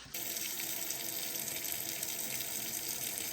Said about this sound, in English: I'm gonna run some hot water over this so it'll defrost